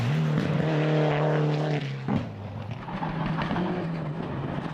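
A rally car heading for the stage finish at Rally Gisborne, its engine holding a steady loud tone that drops off, then a rougher, fainter rumble as the car moves away.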